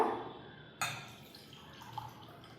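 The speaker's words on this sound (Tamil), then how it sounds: "அதுக்கடுத்து தண்ணி கொஞ்சம் எடுத்து ஊற்றிக்கோங்க" Water is poured into a glass for a simple electrolysis experiment, a faint brief splash followed by a few soft drips and trickles in a quiet room.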